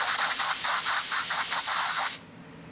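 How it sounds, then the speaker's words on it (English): Canned air sprays a nail brush dry in one loud, continuous hiss with a slight pulsing texture, lasting about two seconds before cutting off abruptly. "if I use my canned air"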